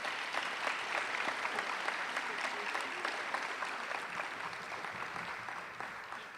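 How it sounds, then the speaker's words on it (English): A graduation audience gives a graduating class a steady round of applause, dense clapping that holds evenly and then tapers slightly toward the end. "How about a big round of applause for this class?"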